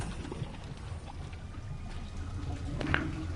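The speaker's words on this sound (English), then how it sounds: "And that pumps away the water." In the puzzle game The Witness, murky water drains away with a steady pouring, trickling wash throughout, growing slightly fuller toward the end and capped by a brief brighter splash.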